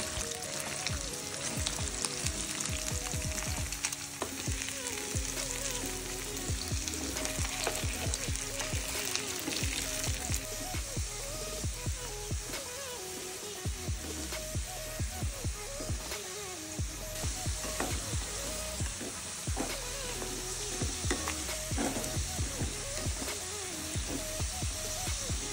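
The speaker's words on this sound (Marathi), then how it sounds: "कढईमध्ये 2 चमचे तेल टाकून घ्यायचं आणि पहिले बटाटे फ्राय करून घेते" Potatoes fry in oil in a kadai with a dense, continuous sizzle and crackle that stays close and steady throughout, with occasional small pops and faint stirring.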